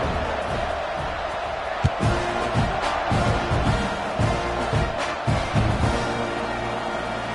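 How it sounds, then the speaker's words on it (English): A large football stadium crowd roars in a steady wash of noise, with thumps and muffled announcer-like voice underneath, broad and distant-sounding. "You think this crowd's going to get loud when their defense comes on the field?"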